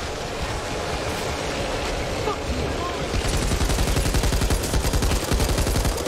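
Rapid gunfire from the video game Back 4 Blood, bursts of shots growing denser toward the end over a constant background din, with players talking over it.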